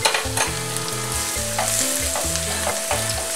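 Jalapeño chiles and translucent onion frying in olive oil, a steady broadband sizzle with bursts of stirring and scraping; pitched music-like tones run underneath throughout, no voices.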